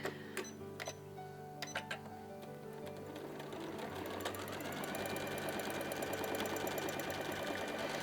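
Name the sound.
sewing machine stitching swirls in fabric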